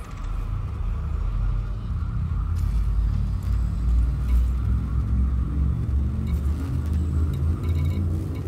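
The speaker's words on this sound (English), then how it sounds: "Frameshift drive charging." An Elite Dangerous spaceship's frame shift drive charges with a steady, deep rumbling drone that builds slightly and holds for several seconds, loud and continuous, with faint higher whooshes over it.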